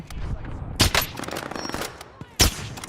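Call of Duty: Warzone Pacific gunfire cracks out in two sharp, loud shots about a second and a half apart, with a few fainter pops and a voice talking in between.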